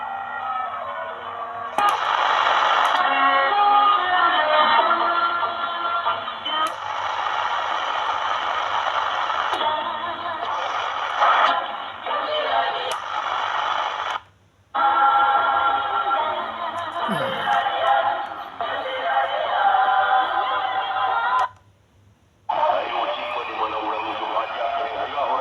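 Panasonic RF-B45 portable radio tuned to an AM broadcast, giving a continuous, fairly loud stream of band-limited broadcast audio with hiss and a low hum. Two brief dropouts break it as the dial is moved.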